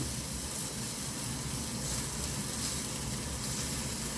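Burger patties flattened with the back of a spoon fry in a pan, giving a constant, even sizzle and hiss at close range with no voices.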